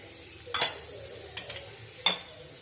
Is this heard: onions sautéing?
yes